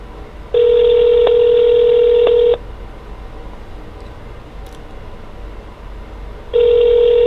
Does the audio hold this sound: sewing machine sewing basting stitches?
no